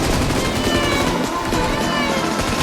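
Gunfire erupts in a BGMI mobile battle royale match: dense, rapid, loud bursts of shots pile together without a break, with some other game noise mixed in.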